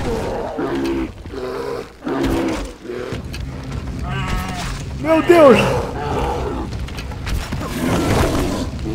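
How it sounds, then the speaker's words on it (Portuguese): A brown bear in the video game Far Cry Primal roars and grunts in repeated loud bursts as it attacks, growls rising and falling, while a man reacts with a brief exclamation. "Morri pela primeira vez devorado por um urso pardo"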